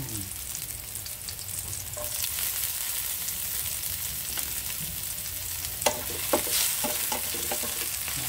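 Onion and garlic sauté in a pan with a steady close-up sizzle, broken by a few sharp scraping and clinking stirs toward the end, with no speech.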